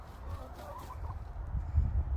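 Dominique chickens cluck softly outdoors on a sunny day after rain, low murmuring calls close by with a few louder bursts near the end, no talking.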